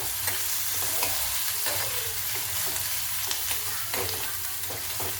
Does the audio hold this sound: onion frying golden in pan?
yes